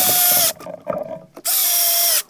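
A power drill drives screws into a table equalizer slide in two close, loud whirring bursts separated by a short pause filled with faint clicks and handling noise; no voices.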